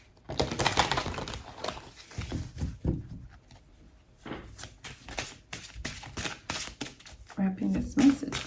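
Oracle cards are shuffled in quick riffling bursts with brief pauses between, close and crisp, while a voice speaks intermittently alongside.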